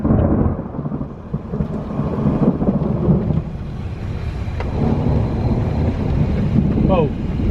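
Thunder from a lightning barrage during a storm, a deep rolling rumble that swells and fades, with rain and wind noise on the microphone throughout.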